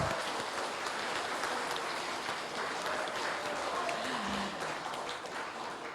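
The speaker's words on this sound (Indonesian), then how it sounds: "tepuk tangan yang meriah untuk ketiga kandidat kita" An audience at a Banjarmasin mayoral candidates' debate applauds the three candidates, a steady wash of many hands clapping at a distance that sounds rain-like and never lets up.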